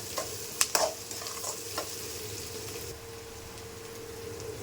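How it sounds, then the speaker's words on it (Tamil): A spoon stirs fish curry with salt in a pan, giving a few quick scraping knocks early on over a soft, steady sizzle, with no voices. "இதுவே நல்லா கலக்கி விட்டுக்கோங்க"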